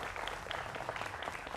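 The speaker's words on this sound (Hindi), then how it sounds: "तो जोरदार तालियों के साथ हमारे यहां पर युवा मित्रों का अभिनंदन है।" A studio audience applauds to welcome young guests on a debate show, a short dense burst of many hands clapping at moderate volume.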